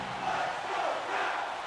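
A hockey arena crowd in NHL 25, Flyers against Capitals, roars in a steady, dense wash of cheering during a tied game.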